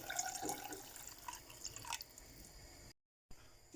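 Plain water poured into a simmering sauce for chickpea and orzo soup, giving a brief close trickle and splashing that gives way to soft bubbling, followed by a short silence.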